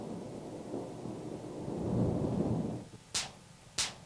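Thunder from lightning rumbles low and steady for about three seconds, then fades as two sharp, separate cracks ring out.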